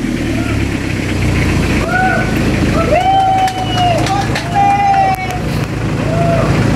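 A Mazda Bongo R2 diesel engine starts and runs after an injection pump conversion from electronic to manual control, a loud steady rumble that rises and falls with revving while people talk and shout over it.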